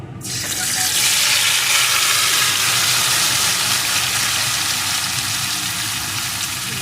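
Fish and snake gourd, mixed by hand, drop into hot oil for a fish curry, setting off a loud, steady burst of frying that rushes up at once and holds evenly, without talking.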